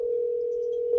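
An outgoing telephone call rings in the earpiece as one steady electronic tone. It holds level for the whole second and is heard close and alone.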